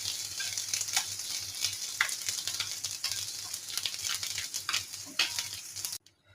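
Rohu fish and potatoes fry in hot oil with a steady crackling sizzle and scattered pops, moderately loud throughout, before cutting off abruptly near the end.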